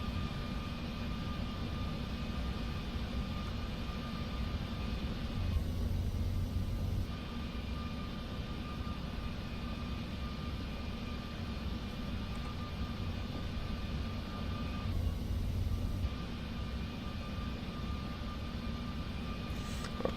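Steady low engine rumble and broadband roar of a PMDG 747 airliner on approach to land in the P3D flight simulator, continuous and even throughout with no talk.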